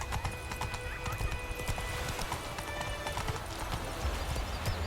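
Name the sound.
horse galloping in The Witcher 3 video game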